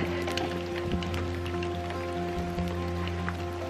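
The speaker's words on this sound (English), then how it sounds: "It just started to rain." Warm rain falls outside on a mild thawing day, a steady close patter and drip on surfaces with a constant background hum and occasional soft splashes.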